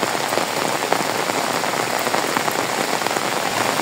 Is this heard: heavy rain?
yes